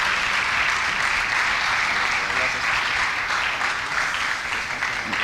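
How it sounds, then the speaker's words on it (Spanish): A church congregation claps warmly to welcome Pastor Joel Saldaña, a sustained, even wash of many hands close by that continues for the whole stretch. "Le damos un aplauso de bienvenida al pastor Joel."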